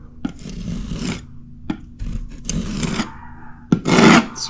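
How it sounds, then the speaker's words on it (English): A putty knife pushes and spreads pink DryDex joint compound into a hole in drywall, making several short, close scraping swipes separated by brief pauses, the last one loudest. "So I got a little bit on my putty knife. Just gonna push it in."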